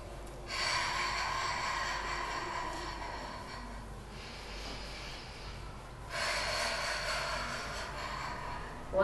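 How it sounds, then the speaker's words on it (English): Deep breathing during a Pilates shoulder, chest and spine exercise, with long airy inhales and exhales in two sustained waves separated by a softer pause, close and fairly loud. "Three more deep breaths."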